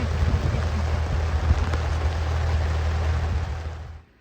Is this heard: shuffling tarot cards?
no